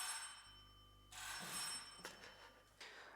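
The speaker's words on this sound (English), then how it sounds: "there was someone ringing the doorbell here." An electronic chime-like ringing, taken as a doorbell at home, sounds in a few bright bursts with steady tonal lines and a low background hum, fairly faint and alone.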